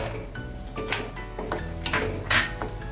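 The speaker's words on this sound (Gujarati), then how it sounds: "હવે આમાં કાજુ નાખી દો." Cashews tipped into a pan on the stove, with a clatter of nuts and utensil against the metal, scraping stirs and a light sizzle, close and fairly loud.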